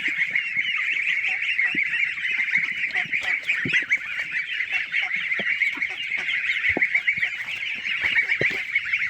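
Geese in a farm coop honk continuously, a dense, close, overlapping chorus of nasal calls with a few deeper thumps underneath and no talking.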